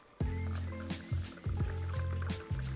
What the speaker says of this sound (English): We're just gonna go ahead and pour it in.